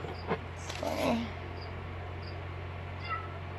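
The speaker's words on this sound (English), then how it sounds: "My cat's going crazy" A house cat gives a short, faint meow early on in a quiet indoor room over a low steady hum, followed by a few soft chirpy sounds.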